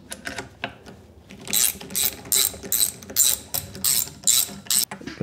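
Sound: tightening bolts on machine tool changer with ratchet

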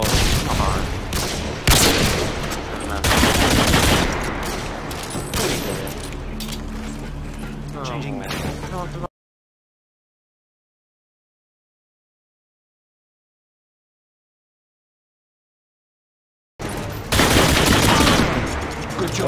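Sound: sniper rifle gunfire in a video game

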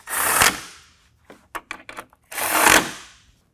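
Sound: bolts being reattached on a 2022 Ford Bronco

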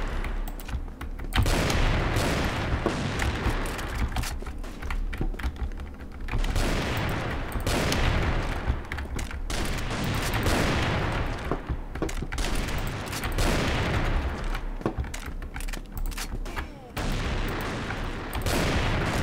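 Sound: gunshots from a video game

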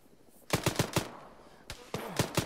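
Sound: gunfire during a milsim battle

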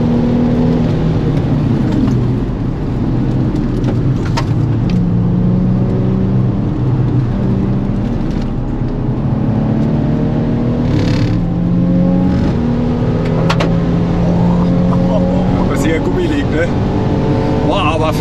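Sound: car engine accelerating while driving

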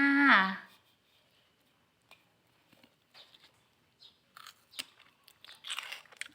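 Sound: eating crunchy homemade pickled mustard greens

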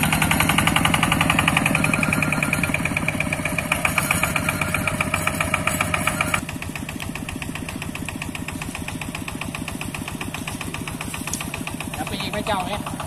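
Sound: Kubota engine running a water pump

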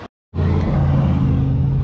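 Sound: Ford F-150 EcoBoost engine idling

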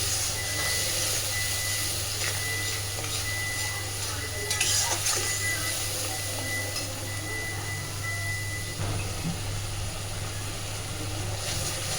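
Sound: spice paste sautéing in a pan for Shahi Katla

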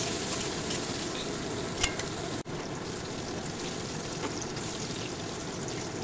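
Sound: potatoes frying in oil

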